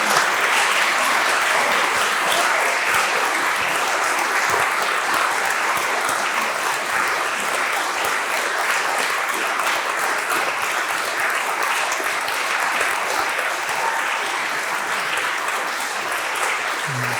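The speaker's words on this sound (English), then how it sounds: "Not being an actor, I don't have those abilities to make you stop applauding" An audience applauds steadily and loudly after a performance, the clapping dense and unbroken for the full length.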